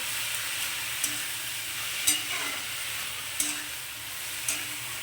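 Fenugreek greens, potato and brinjal are stirred together with rice in a pan, a soft continuous sizzle broken by four or five distinct spatula knocks at a steady pace, with no talking.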